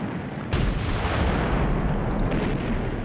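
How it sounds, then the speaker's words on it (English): British artillery guns firing on the Somme in 1916, a sharp blast followed by a sustained, rumbling roar of distant bombardment that continues steadily to the end. "When the British guns opened up on the Somme on the 24th of June 1916"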